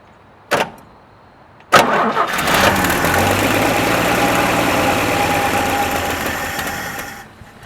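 A 1967 Chevy C10 engine, parked for 23 years, cranks and catches after two sharp clicks, then settles into a loud, steady rough idle with its idle speed raised, close by and with no talk.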